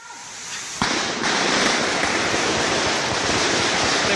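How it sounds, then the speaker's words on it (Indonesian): Gunfire in a shootout between police and an armed group in Poso, Indonesia: a sudden loud blast gives way to a sustained roar of dense rapid shots and echoing noise. "baku tembak kembali terjadi"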